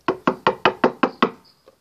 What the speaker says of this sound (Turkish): Ve sonradan aniden kapı çaldı.